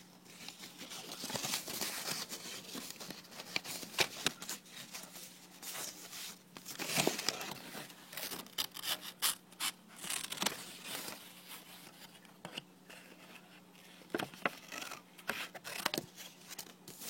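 Scissors cut out paper parts for a handmade doll book bag in quiet, irregular snips mixed with soft paper crinkling and rustling close by. No talking is heard.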